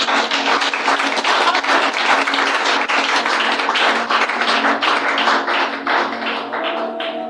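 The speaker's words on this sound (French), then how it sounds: "Acclamons pour le Seigneur." A church congregation clapping and applauding for the Lord, dense sustained applause from many hands filling the space, steady and loud throughout before easing slightly at the end.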